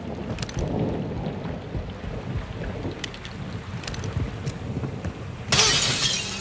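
Heavy rain pours and thunder rumbles in a Call of Duty: Modern Warfare II campaign scene, with a dense steady downpour and a sudden loud crack of thunder near the end.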